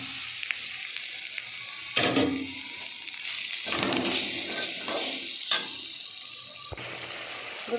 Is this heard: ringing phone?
no